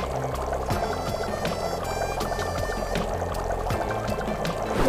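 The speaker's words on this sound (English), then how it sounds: "Pour the broth into a bowl with the ladle." Broth ladled from a pot into a bowl in a Japanese kitchen, a steady liquid pour with repeated splashes heard under faint background music, close and continuous for several seconds.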